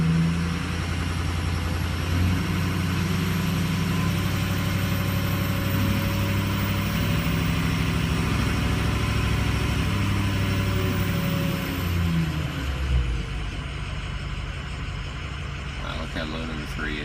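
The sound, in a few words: Harley-Davidson motorcycle engine idling after cold start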